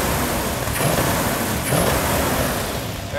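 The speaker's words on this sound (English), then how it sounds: "I'm gonna give it a little RPM." A Barracuda car engine revs up close, a loud rough roar that surges twice and then holds steady.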